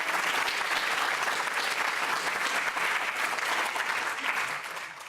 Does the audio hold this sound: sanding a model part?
no